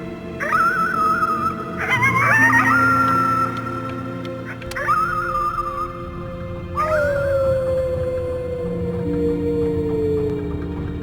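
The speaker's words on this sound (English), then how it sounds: "You howled at the moon" Howling at the moon in the game Before Your Eyes comes as a run of four long, loud wavering howls with brief pauses between them, set over a soft musical backing.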